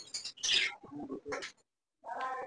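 Doves cooing in short bursts behind a man at a bird seller's setup, fairly close, with a brief silent gap before the calls resume, no speech.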